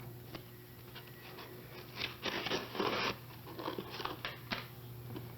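Quiet snipping and scraping of scissors cutting open an Amazon package, a few close crinkly cuts over a low steady hum, with no one speaking.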